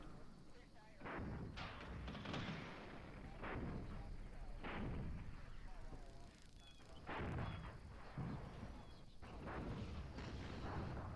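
Artillery barrage in the video game Regiments: heavy booming shots and blasts land repeatedly in irregular bursts, loud and dense throughout, with rumbling battle noise filling the gaps.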